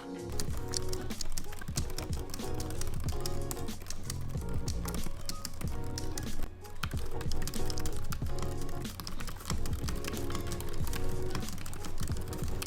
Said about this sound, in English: I've included a sound test between these two keyboards so that you can listen to it for yourself.